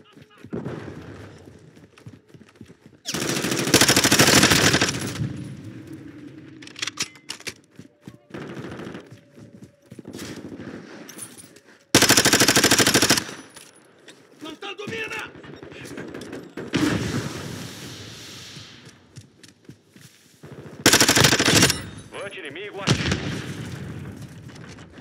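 Gunfire rings out in Call of Duty Modern Warfare 2 during an online match, with loud automatic bursts and single shots arriving in heavy clusters. Between them come quieter stretches of game sound and team voices.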